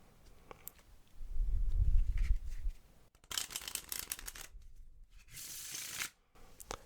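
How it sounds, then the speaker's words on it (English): Playing cards are riffle shuffled close up in a quiet room, with soft shuffling and tapping, a burst of rapid fluttering riffles, then a short cascade and settling taps. "And the Riffle Shuffle looks like this."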